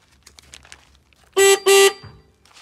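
Horn of a Tourist motor scooter honks twice in quick succession, loud and close, two short buzzy blasts with a brief gap, after quiet ticking of the stopped scooter.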